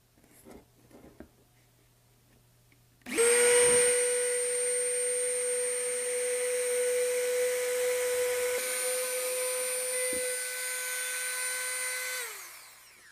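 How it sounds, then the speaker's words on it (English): A Dremel rotary tool fitted with a circle cutter bores a hole through a ceiling tile, starting abruptly as a loud, steady high-pitched whine that holds for about nine seconds and then winds down. "Now all I need to do is use my circle cutter and my Dremel tool and cut that hole out."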